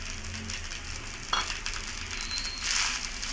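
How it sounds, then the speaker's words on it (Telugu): Egg fried rice with salt sizzles steadily in a hot pan, broken by a sharp clink of a utensil against metal partway through and a louder burst of sizzling as it is stirred near the end. "ఇప్పుడు ఫ్రై చేసే ఎగ్ వేస్తున్నానండి"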